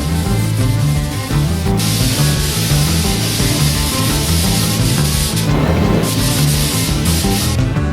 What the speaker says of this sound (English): you can spray your second coat